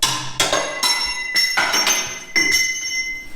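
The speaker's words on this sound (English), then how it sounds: "You want a quality hammer when you're fabricating because you're going to be hitting a lot of stuff." Steel hammer blows on metal parts during fabrication for a giant wrecker build, about five sharp ringing strikes with clanging overtones, spaced roughly half a second apart and close by.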